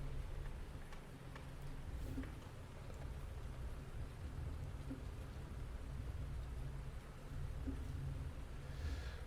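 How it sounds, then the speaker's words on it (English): Steady rain in Farming Simulator 19, falling over a farm at night as a constant, even hiss of drops with occasional faint low rumbles, with no talking. "My guess is it's probably going to rain most of the night as well."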